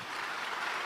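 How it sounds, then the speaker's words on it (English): Very short burst of audience applause for a panel at a tech conference session, a dense even wash of many hands clapping at once, with no talking. "Can we give them a round of applause?"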